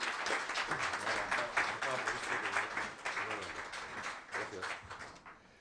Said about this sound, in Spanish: tengo el placer de pedirles un fuerte aplauso